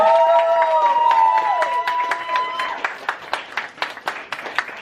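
Audience applause of scattered, sharp claps that grows more distinct toward the end, under a sustained tonal sound like music early on.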